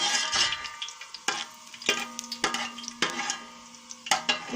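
Cumin seeds frying in hot oil for a pulao, giving a close sizzle with scattered sharp pops and crackles and a few stirring scrapes.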